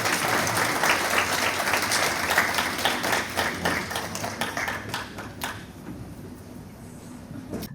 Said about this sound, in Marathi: सगळ्यांनी टाळ्या वाजून कौतुक करायचं आहे त्याचं.